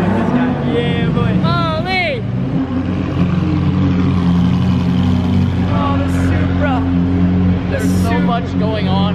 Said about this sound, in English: Look at this noise. Look at this GT2 RS.